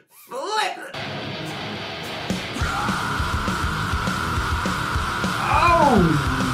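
A long, sustained screamed vocal in a rock song rises loudly over dense rock instrumentation, with someone talking and reacting over the music.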